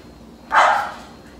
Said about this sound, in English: If you hear yelling or barking, that is my siblings and my dog outside.